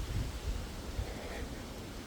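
Wind blowing steadily outdoors on a blustery day during a nature walk, a low rumbling buffet across the microphone with faint rustling, continuous and fairly quiet throughout.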